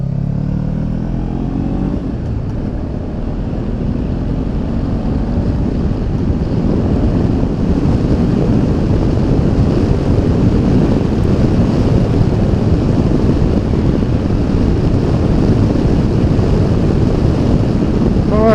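Heavy wind roar buffeting the rider while riding a Honda CB500X motorcycle on the highway with a raised screen, loud and continuous over the low engine drone.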